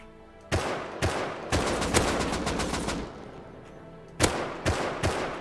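Gunfire in the video game Rust comes in sharp, loud bursts: a couple of single shots, then a sustained rattling volley, a pause, and another cluster of cracking shots near the end, with no talk over them.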